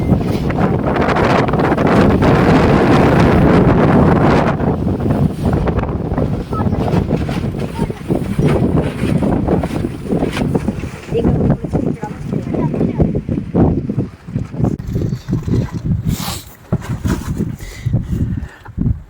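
Strong, steady wind blasts during a nighttime winter snowstorm at a campsite, loud and continuous at first, then gusting in broken bursts with some voices talking underneath.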